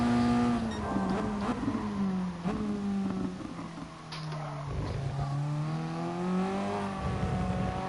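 A Toyota GT race car's engine in a racing video game at Fuji holds a steady, droning tone that dips and rises in pitch as the driver brakes and feeds throttle through corners, with no talking.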